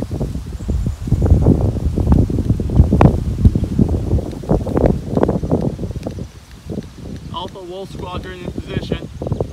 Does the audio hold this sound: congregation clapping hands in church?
no